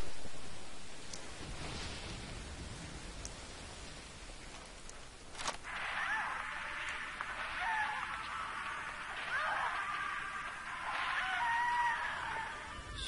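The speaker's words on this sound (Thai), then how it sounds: "ฝนตกแม่งเปียกนะ" Steady rain hisses throughout a Metal Gear Solid V: Ground Zeroes scene, with a sharp crack near the midpoint and shrill, scream-like tones layered over the downpour afterward.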